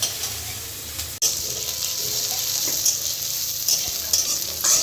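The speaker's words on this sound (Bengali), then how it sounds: "আমি এবার পেঁয়াজ আর কাঁচা লঙ্কাটা ভেজে দেব।" Chopped onion and green chili frying in oil in a pan while cooking a Bengali mustard pabda fish dish, a steady bright sizzle with occasional stirring scrapes and one sharp clack of the spatula.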